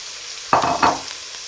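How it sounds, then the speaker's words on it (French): Minced meat hits a hot pan of garlic and onion, a loud sizzling burst with a second surge as it is stirred, then fading back to a quiet hiss. "Là, on va tout de suite placer notre viande hachée."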